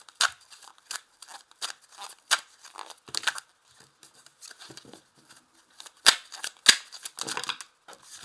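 Tarot cards are shuffled and drawn by hand in a quiet room, giving a string of crisp, close riffling and snapping bursts in irregular rhythm with a couple of sharper slaps near the end.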